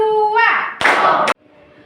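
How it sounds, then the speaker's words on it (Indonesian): Schoolchildren in a classroom in Padang clap their hands together in a short burst on cue, following a voice, then the room drops to near quiet. "tepuk tangan dulu"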